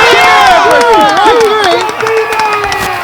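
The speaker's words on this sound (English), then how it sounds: "So if Jose can get out of this, expect the crowd to go wild." A baseball crowd erupts into loud, sustained cheering and shouting after a knuckleball strikeout pitch, with many voices yelling at once and no clear pause over the three seconds.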